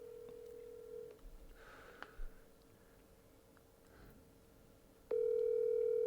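A landline telephone dialing: a few faint keypad tones early on, then a loud, steady dial or ringback tone comes in near the end and holds, with no talk.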